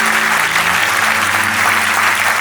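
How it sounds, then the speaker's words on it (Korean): Loud, dense applause from a large crowd at a national Police Day ceremony honoring families of fallen police heroes, a steady wash of clapping with a low sustained tone underneath throughout. "수상하신 경찰 영웅 가족분들께 다시 한번 큰 박수 부탁드리겠습니다."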